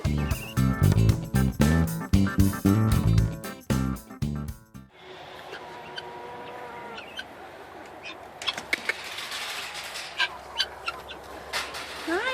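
Chickens and guinea fowl going up to roost, scattered clucks and bird calls over a quiet outdoor background, preceded by several seconds of loud rhythmic music.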